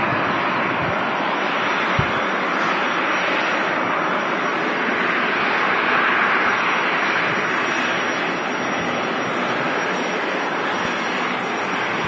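A Boeing 757 touches down at Manchester Airport, a distant, sustained broadband jet roar that swells gently mid-way, steady and unbroken with no voices.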